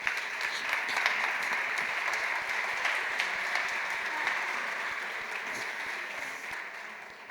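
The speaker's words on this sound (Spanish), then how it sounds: "y un aplauso para ella, por favor" Audience at a gender-violence training conference applauding a speaker as she is introduced, a sustained round of clapping, fairly close, tapering off slightly toward the end.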